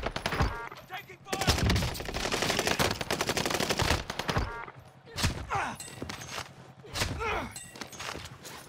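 Rapid automatic bursts from an H4 Blixen submachine gun in the video game Warzone, several loud volleys with short pauses, mixed with game effects and players talking over the action.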